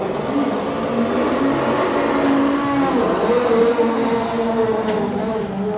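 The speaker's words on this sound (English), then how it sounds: "HKS R32 GTR race car." The HKS R32 GTR race car engine revs and holds a steady, droning mechanical tone with shifting pitch, loud and continuous, set against the bustle of a busy space.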